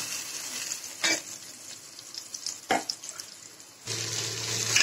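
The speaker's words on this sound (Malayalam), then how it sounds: "ഇനി ഇതിലേക്ക് നമുക്ക് ഈ പരിപ്പ് വേവിച്ചത് ഒഴിക്കാം." Cooked lentils are poured into a hot pan of seasoning for rava pongal, bringing sharp bursts of sizzling and splashing, then a loud, steady frying hiss near the end.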